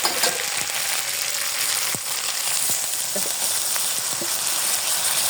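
Spice paste with chili and turmeric frying in a pan for a village-style koi fish curry, a steady close sizzle with scattered scraping stir strokes running throughout.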